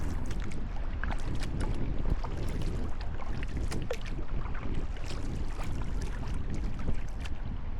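Steady rush and splash of water as a sea kayak moves through it on the River Thames, with wind buffeting the microphone and no talking.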